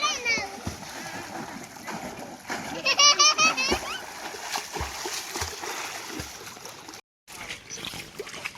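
People splash water in a swimming pool near Arambol Beach, Goa, with repeated close splashes and sloshing while children's voices and shouts ring out over them.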